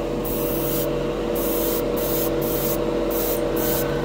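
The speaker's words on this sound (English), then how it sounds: "let's see if this stuff sprays good directly out of the bottle, being a metallic in a larger needle" An airbrush fitted with a larger needle sprays metallic silver Golden High Flow acrylic paint straight from the bottle onto a plastic spoon, giving a steady close hiss that cuts off and restarts in several short pulses.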